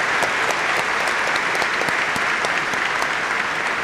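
An audience at a business panel on impact-driven companies bursts into dense, sustained applause, loud and even throughout with no pause.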